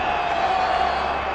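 A large stadium crowd at the Bernabeu gives a steady, muted roar after a goal, a dense wash of voices without distinct cheers, moderately loud and continuous.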